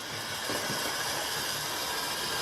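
A Hornby 2P model locomotive in Somerset and Dorset Joint Railway blue runs steadily along the track, a continuous rolling hiss and rumble with no pauses.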